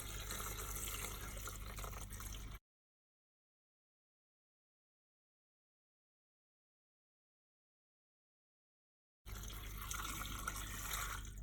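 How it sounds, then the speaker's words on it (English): Hot lye solution is poured onto coconut oil for soap making, a rushing liquid pour heard at the start and again near the end, with a long silent gap between. "pouring the hot lye solution onto my coconut oil"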